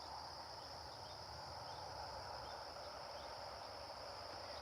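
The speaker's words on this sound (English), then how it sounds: "and a lot of crickets." Steady, dense chorus of crickets trilling continuously, with no pauses or voices, forming a constant high-pitched background.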